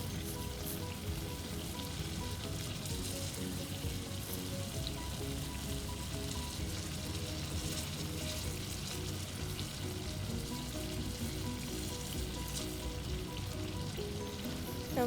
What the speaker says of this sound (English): The oil may splatter, so make sure you don't stay too much near the oil or you're well protected.